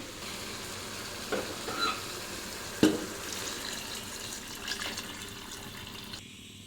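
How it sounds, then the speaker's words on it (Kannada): Hot water goes into a pot of vegetable palav rice, setting off a soft hiss and sizzle with a few short splashing bursts. It is fairly quiet and close, and the sound fades out at the end with no one speaking. "ಆಗಲೇ ನನ್ನ ಪಕ್ಕದಲ್ಲಿ ಬಿಸಿನೀರನ್ನು ಕೂಡ ಕಾಯಕ್ಕೆ ಇಟ್ಕೊಂಡಿದ್ದೆ, ಅದನ್ನು ಇವಾಗ ಇದರೊಳಗಡೆ ಹಾಕಬೇಕು"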